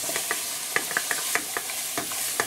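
Trinity vegetables being stirred into a dark chocolate-colored roux for turkey and sausage gumbo, with a soft sizzle and repeated short scraping strokes of a spoon in the pot.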